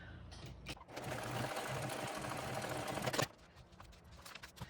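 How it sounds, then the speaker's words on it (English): A sewing machine topstitches a backpack seam in one continuous, close, steady run of a little over two seconds, followed by quieter handling sounds. "then you're going to top stitch"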